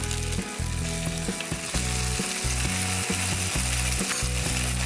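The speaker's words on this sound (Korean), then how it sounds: "치즈를 버터 녹은 거에다가 녹여주시는 거예요." Slices of cheddar cheese melt in sizzling butter in a pot for cheese ramen, with a continuous close frying sizzle over a rhythmic low humming drone.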